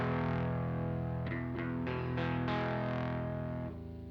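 An electric guitar played through a KarenX drive pedal with its tone control switched off produces a sustained, distorted chord that rings loud, with several picked strums and note changes over the drone.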